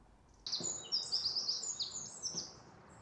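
Several birds chirp and trill in quick overlapping phrases against a steady outdoor hiss, bright and fairly close, with no talking.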